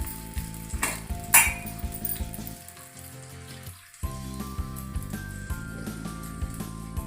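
Milk poured into a pan of fried corn powder, a steady close sizzle and frying hiss with clinks of a spoon or ladle against the pan, a brief quieter dip midway, no talking.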